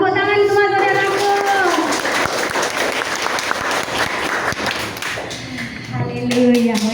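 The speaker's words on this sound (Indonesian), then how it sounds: "Tepuk tangan semua saudaraku." Church congregation clapping hands together in a steady burst of applause, loud and close, with singing or voices at the start and end.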